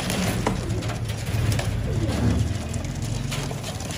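Pigeons coo continuously in low, rolling murmurs, close and fairly loud, with several birds overlapping against a steady background hiss.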